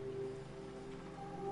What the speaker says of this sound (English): Is that rain coming in? It's just hammering it down.